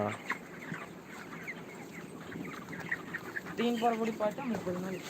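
Chickens cluck and murmur in a busy poultry farm coop, with a steady background hum and a few louder clucks near the end.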